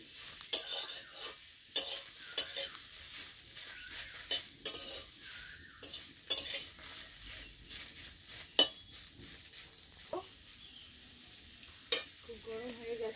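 Ghetkol (bhetkol) mash being stirred and fried in a pan, with repeated sharp scrapes and clinks of a utensil against the metal over a soft, steady sizzle, close and moderately loud.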